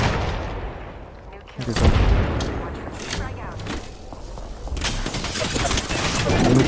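Gunfire in the battle royale game Apex Legends, bursts of booming shots and rattling fire over a dense, noisy game mix, with players talking over it.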